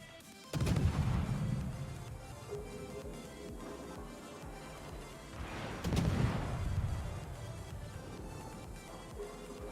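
Heavy naval guns of a Tier VIII British destroyer, HMS Cossack, in World of Warships, two booming salvos several seconds apart with rumbling tails, loud and alone over a low ambient hum.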